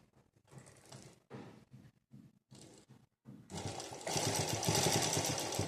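A sewing machine stitches the corner of a blouse back-neck design, running in short start-stop bursts of rapid mechanical clatter that become a sustained louder whir toward the end.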